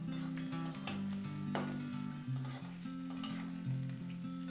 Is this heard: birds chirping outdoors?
no